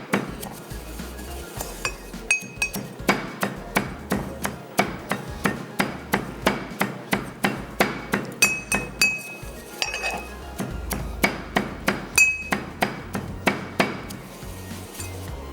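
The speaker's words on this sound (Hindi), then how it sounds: "चले मोटा मोटा कूट के हमने इसमें कर दिया इसको शामिल" Whole spices coarsely pounded in a mortar with a pestle while cooking sweet and sour chicken chunks, a steady run of sharp, ringing hard strikes, about two per second, close and loud with no talking.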